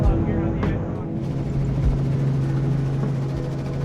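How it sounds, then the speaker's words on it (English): Helicopter flying high over downtown Toronto near the CN Tower, a steady low rotor and engine drone running continuously throughout, loud and close from inside the cabin. "Trev, there's only one way to beat this view, and that's in a chopper."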